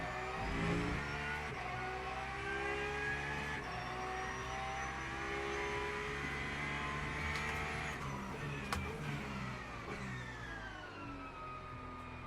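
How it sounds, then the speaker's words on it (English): A Porsche race car in Le Mans Ultimate, its engine whining and revving through rising and falling pitch sweeps as it shifts gears, steady and moderately loud with no talk over it. "I like the sound of this Porsche."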